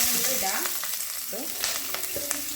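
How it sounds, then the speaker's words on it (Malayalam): Onion and green chili sizzle briskly in hot oil, a dense crackling hiss with a few light stirring knocks. "എണ്ണ ചൂടായിട്ടുണ്ട് ഇതാ ആ ഇതിലേക്ക് ഇതാ ഉള്ളിയും പച്ചമുളക്"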